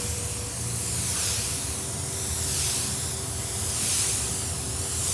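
A paint spray gun sprays paint onto a panel with a continuous close hiss that swells and fades gently as it sweeps back and forth, with no voices.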